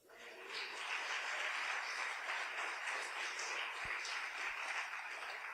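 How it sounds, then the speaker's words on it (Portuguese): A church congregation applauds during a sermon, the clapping soft and distant but continuous, a faint even patter with a couple of low thumps. "Agora aplauda o Senhor."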